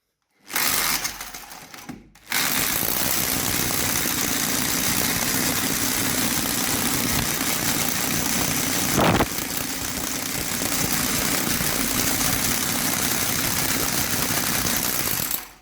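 A power drill bores into an extremely hard house wall, producing a loud, unbroken grinding drone that runs steadily for the whole stretch after a brief start-up stutter.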